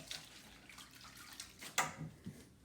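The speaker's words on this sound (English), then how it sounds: "Let me wash my hands." Water running from a kitchen tap while hands are washed after preparing apple streusel muffins, a soft steady splashing with a few brief louder splashes, fairly quiet and with no talking.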